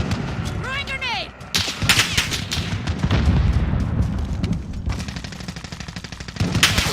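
In an online shooter video game, a grenade is thrown and then bursts of gunfire follow, with rapid loud shots and booms close up and a brief whistling tone near the start.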